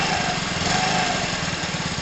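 A small engine being revved during a charging-circuit check with the starter diode removed, a steady buzzing drone held at raised revs, close and alone.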